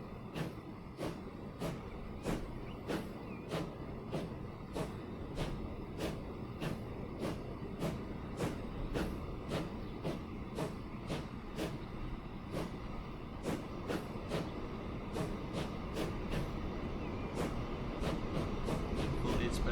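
A train in Transport Fever 2 hums with a steady, dense rumble as regular rhythmic clicks tick past throughout, like wheels passing over rail joints, continuous and even in loudness.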